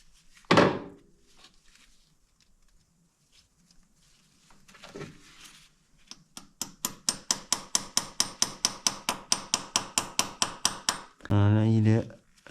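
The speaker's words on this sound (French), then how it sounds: "Mais je vais prendre juste le marteau." A hammer drives a restrictor into a Maserati V6 biturbo engine: after an early heavy knock, a rapid, even run of about twenty sharp metallic taps rings out close by, ending in a brief loud clatter.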